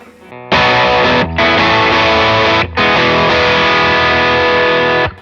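Electric guitar on the bridge pickup through a Klon overdrive model on a Line 6 Helix with AC30 dual cabs, three loud, gritty strummed chords, each sustaining with brief gaps between, no voices.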